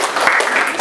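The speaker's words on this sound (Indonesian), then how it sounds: "tepuk tangan buat kalian." Classroom of students applauding, a short burst of dense, even clapping close by.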